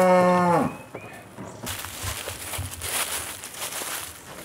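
Cattle on a Mexican ranch moo loudly and close at the start, one long low call that fades, followed by shuffling, rustling farmyard noise and movement in the pens.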